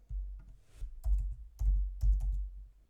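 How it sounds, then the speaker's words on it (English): Typing on a computer keyboard to enter a product name, a handful of soft, close keystrokes in small uneven clusters, fairly quiet with no talking. "they have the ability to make prescription in this field simply by starting to type the name of the product"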